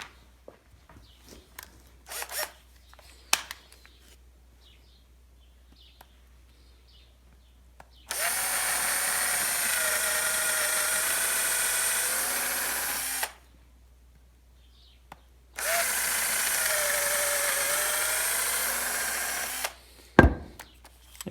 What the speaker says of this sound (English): let's get this one screwed in